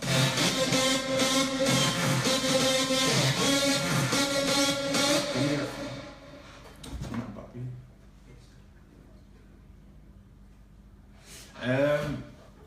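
Bright synth leads made in FL Studio play a layered big-room melody together, loud and busy, then cut off, leaving a few sparse, quieter notes.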